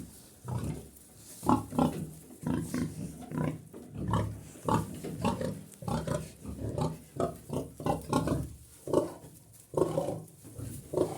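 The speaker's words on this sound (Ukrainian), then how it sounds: "Свиноматка кидається, хоче поламати арматуру." A sow grunts repeatedly in rough, irregular bursts, close by, thrashing in a metal pen, with bumping and rattling sounds of movement in between.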